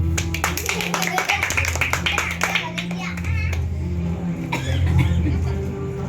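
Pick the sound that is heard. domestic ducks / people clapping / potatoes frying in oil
people clapping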